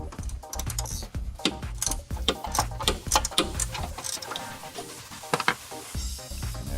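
A ratcheting wrench loosens a strut nut on a Hyundai Tucson, giving close, rapid, uneven metallic clicking in bursts with short pauses between turns.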